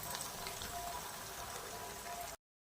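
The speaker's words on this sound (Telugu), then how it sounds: "బ్రెడ్ పీసులు ఇందులో వేసుకొని బాగా గోల్డెన్ కలర్ వచ్చే వరకు డీప్ ఫ్రై చేసుకోవాలి" Bread pieces deep frying in hot oil for double ka meetha, a steady, dense sizzle and bubbling hiss held at even loudness before cutting off abruptly.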